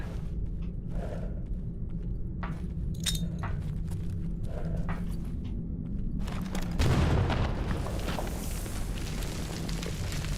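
A grenade bursts inside a building in the STALKER Anomaly video game: quiet rustling and small clicks give way to a sudden low, heavy boom that rumbles on through the last few seconds.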